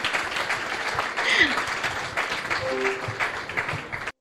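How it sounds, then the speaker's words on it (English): Audience applause at a platform launch event, a steady wash of clapping with a few voices mixed in, moderately loud and continuous for several seconds before cutting off abruptly. "I love the cheering"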